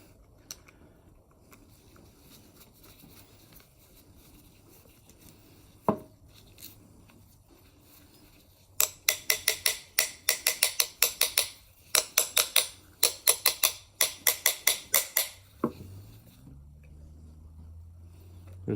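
A screwdriver takes two Phillips screws out of a lawnmower carburetor during a restoration. Dense bursts of close, sharp metallic ticking follow a quiet stretch, with a faint thump before and after.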